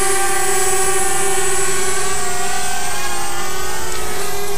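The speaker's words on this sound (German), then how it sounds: "Die Drohne startet rückwärts" A DJI Spark quadcopter drone takes off, its rotors giving a loud, steady, high-pitched whine with buzzing overtones that holds throughout, close by, with no talk.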